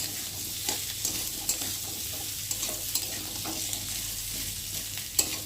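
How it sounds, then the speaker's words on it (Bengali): Potatoes fry and get stirred in a pan: a constant sizzle broken by regular soft scrapes and clicks of a utensil, close by and with no talking. "নেড়ে দেবো, দিয়ে আলুটা একটু ভালো করে ভেজে দেবো।"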